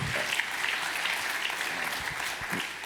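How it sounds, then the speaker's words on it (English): An audience at the 2025 Bitcoin Policy Summit applauds in a dense, even wash of clapping that fills the room and holds steady throughout. "can we give David and everybody at BPI a round of applause for everything they have done?"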